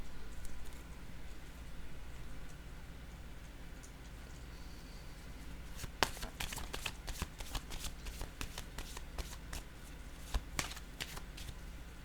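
A deck of playing cards being shuffled and handled close up, with quiet rustling at first and then a dense run of sharp riffling flicks in the second half. No one speaks.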